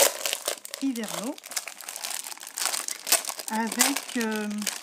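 Paper crinkles and rustles as sheets are handled, with a person talking intermittently over the crumpling.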